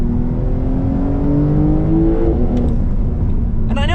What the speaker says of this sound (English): with the sports exhaust, this 911 Turbo actually sounds really good. You hear that flat six